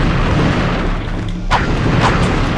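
Missiles detonate in the Ratchet and Clank video game, several loud booming blasts over a dense rumbling battle backdrop, with sharp bursts arriving near the end.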